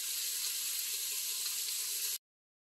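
Onion sweating and caramelizing in an Instant Pot for Guyanese-style brown beef, a steady, close frying hiss that runs evenly and then stops abruptly.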